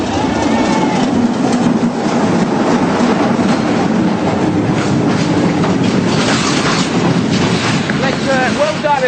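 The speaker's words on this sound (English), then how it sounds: "keep an eye out because the train's coming through" A loud, continuous rumble of a train rolling past on rails, with rushing wind noise and rattling throughout.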